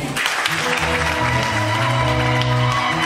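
Crowd applause for a singer at a launch event, a steady wash of clapping heard over sustained background music, with little talking.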